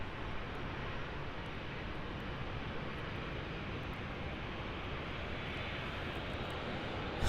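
A Virgin Australia airliner climbing out from the departure runway at Brisbane Airport, a steady broad jet engine roar that holds loud and even throughout, with no other sounds over it.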